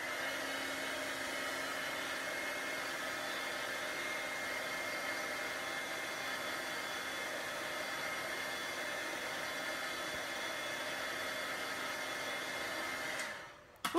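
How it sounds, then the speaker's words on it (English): A handheld crafting heat tool blows a steady, loud whirring hiss while warming paper, the even roar holding continuously before it abruptly cuts off at the end. "that's where your heat tool comes in again. So here we go, one last time being a little noisy."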